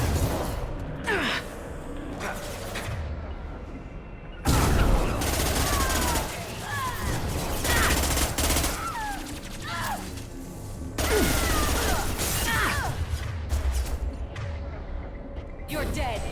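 Weapon fire in Mass Effect 2 combat, bursts of gunshots and impacts rising and falling across the scene, mixed with game sound effects and brief voice sounds.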